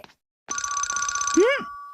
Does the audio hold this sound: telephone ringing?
yes